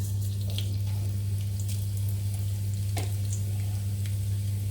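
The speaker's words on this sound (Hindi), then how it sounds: "अब ये तेल गरम हो गया है। अब इसमें मैं ½ टीस्पून जीरा डालूंगी" Cumin seeds sizzle in hot oil with a soft, steady hiss and a few light crackles over a constant low hum.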